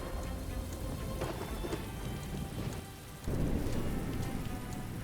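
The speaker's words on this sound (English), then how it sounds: "The rains are horrible." Heavy rain pours steadily and loudly, a dense constant hiss with a brief dip before it swells back even stronger, with no voices heard.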